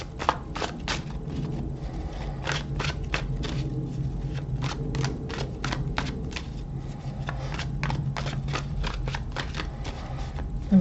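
Tarot cards shuffled over a steady low background hum, giving a run of crisp, rapid snapping clicks at an irregular but continuous pace, close and moderately loud.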